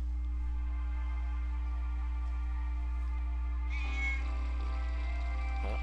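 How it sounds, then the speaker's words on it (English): A cat meows in the video game Final Fantasy IX, a clear, close, drawn-out call rising out of steady background game tones partway through, with no talking. "Yep, that's definitely the cat."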